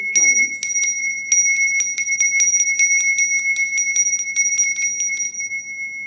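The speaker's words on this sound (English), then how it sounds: "This is the bell that I've had for more than a decade." A Balinese bell rung for sound healing rattles in rapid repeated strikes, bright sustained metallic tones ringing on for several seconds, close and clear, with a voice briefly at the start.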